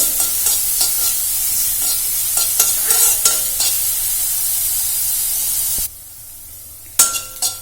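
Onions fry in a pan for a vegetarian lunch, giving a bright sizzle broken by repeated stirring scrapes; the sizzle drops away abruptly near the end, followed by a couple of sharp clinks.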